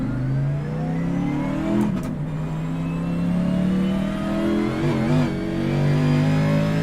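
Race car engine pulling out of the pits and through a turn, a steady loud drone with rising and falling pitch as the driver works the throttle, close and continuous with no talking.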